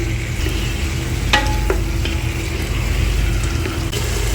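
Beef pieces go into a pan of well-fried ground cumin, coriander and garam masala, giving a steady, even frying sizzle with a few light scraping clicks from stirring.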